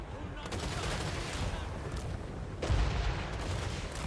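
Cannon and gunfire from a Total War Warhammer 3 battle rumble in a dense, continuous barrage, and a heavier boom lands near the end.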